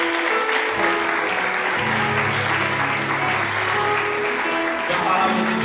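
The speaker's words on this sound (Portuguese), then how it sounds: "Glorifica o Senhor Jesus com as palmas" Church congregation applauding together during an evening worship service, steady dense clapping filling the room with some voices and crowd noise mixed in underneath, continuing without a break.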